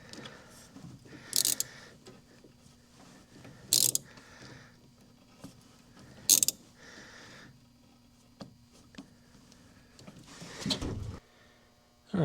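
A ratchet tightening hose clamps on coolant hoses while a thermostat is fitted, several short separated bursts of sharp clicking close by, with quiet handling noise between them.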